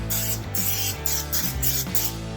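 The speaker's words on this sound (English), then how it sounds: "I'm going to go ahead and spray this with some nonstick." Several hissing bursts of aerosol cooking spray, four or five pulses in quick succession over a steady low hum, close and fairly loud.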